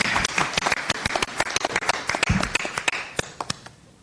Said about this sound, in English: Round of applause for our presenter here